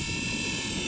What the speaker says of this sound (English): Oh, look at that beautiful heli.